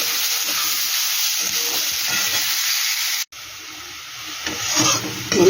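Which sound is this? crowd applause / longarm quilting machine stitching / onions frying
onions frying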